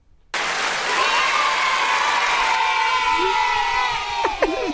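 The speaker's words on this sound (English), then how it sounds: "Children cheering." A crowd of children cheers, with loud sustained shouting and whooping that starts abruptly and holds steady. A few higher squeals break out near the end.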